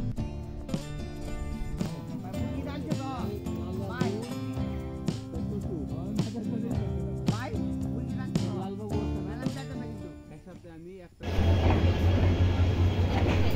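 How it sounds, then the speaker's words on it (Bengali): A train pulls into a station and stops, its rumble and rattling carriages loud under music, then the engine idles heavily once it halts. "দেখতে পাচ্ছেন আমাদের ট্রেনটি কিন্তু এখন এসে দাঁড়ালো স্টেশনে"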